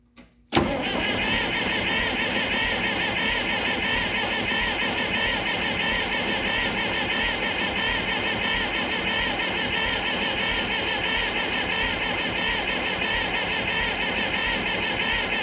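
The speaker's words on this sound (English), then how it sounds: "gonna hook up the battery, crank it over, crack these lines" A 1959 Case 800 tractor engine cranks over after a brief click, then holds a loud, steady mechanical drone up close for the remaining fifteen seconds, with no break or rise in pace.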